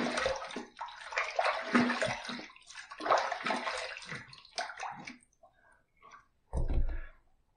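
Water runs and splashes over a Yaqi Tile razor head on a Bolt handle as it is rinsed after shaving. The steady rush lasts about five seconds, followed by a few softer drips and one short, louder splash near the end.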